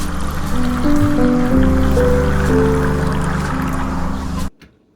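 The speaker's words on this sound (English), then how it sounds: "I added a riser there because it was getting a little bit boring of me just pouring water into a cup" A synthetic riser swells in stepped, climbing tones over water being poured into a cup. The steady pouring wash stays close and loud, then everything cuts off abruptly near the end.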